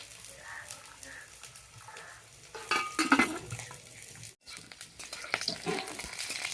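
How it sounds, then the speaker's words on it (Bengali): Cauliflower frying in a pan as part of a Bengali festive thali, a quiet sizzle under clinks and scrapes of a utensil stirring against the pan, with a louder burst of stirring in the middle. "আর ফুলকপিটা ভাজা হয়ে গেছে"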